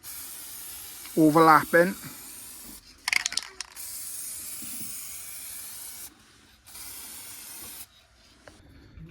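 Heavy wet coats of spray go onto a Ford Focus RS part as a steady close hiss from an aerosol can. The spray stops and starts in a few gaps, and a voice talks briefly near the start.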